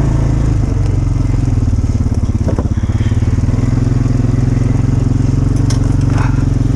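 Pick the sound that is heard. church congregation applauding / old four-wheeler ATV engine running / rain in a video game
old four-wheeler ATV engine running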